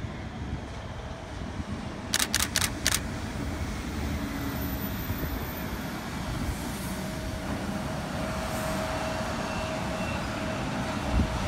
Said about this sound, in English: F1's coming around the corner and approach to platform 6 at Strathfield